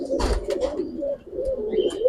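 Coloured Giribaz pankhi and beji pigeons coo in low, rolling, continuous warbles that run steadily throughout, close and fairly loud, with a few brief rustling or flapping bursts near the start and no voices.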